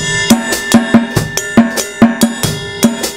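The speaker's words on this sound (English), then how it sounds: "the new thing I'm going to be playing, is going to be on the snare drum." A Latin drum beat played on a snare drum with the snares turned off, giving dry tom-like hits in a syncopated pattern alongside sharper accents, close and clear with no talk.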